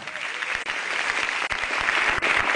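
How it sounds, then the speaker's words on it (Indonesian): Brief, lively applause from a stand-up comedy audience, a dense burst of clapping with short dips, close and loud throughout. "Tepuk tangan dulu dong"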